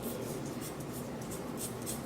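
Pencil sketching a mannequin figure in a relaxed walking pose on paper, a steady close scratchy rubbing with no pauses and no talking.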